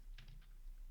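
Typing on a computer keyboard, three or four quick, light keystrokes close by during a coding session, faint and with no talking.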